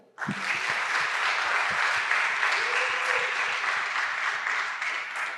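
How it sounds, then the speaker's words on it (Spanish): A round of audience applause erupts suddenly and holds steady and dense for several seconds, a crowded room of many hands clapping together, tapering slightly at the end. "Que también otro aplauso, ¿no?"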